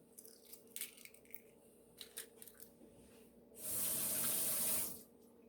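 Kitchen tap runs into a sink for about a second and a half while boiled eggs are peeled, preceded by faint cracking and peeling clicks; close and fairly quiet.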